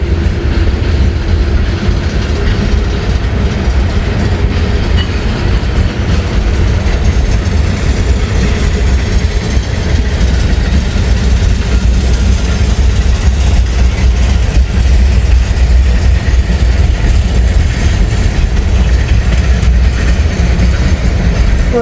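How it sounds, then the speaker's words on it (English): A slow freight train rolls by on the rails with a long, loud, unbroken rumble and grinding of wheels and cars, close by and with no voices. "These trains run so slow through here."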